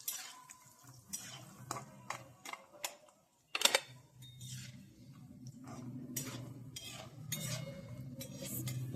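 Cashews fry in a pan for a dhaba-style cashew curry while a spoon scrapes and clinks against the metal, with sharp intermittent taps over a soft sizzle that grows steadier toward the end.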